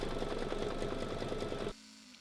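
A ScanNCut embroidery machine sews a satin stitch with a steady, dense mechanical whirr that runs for most of the moment, then stops abruptly and leaves near silence.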